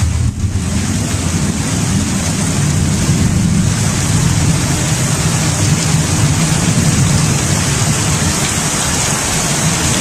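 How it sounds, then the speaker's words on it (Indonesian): Heavy rain falls in a steady, loud hiss, pouring down with gusty wind rumble, continuous and close with no voices. "Nah, hujan."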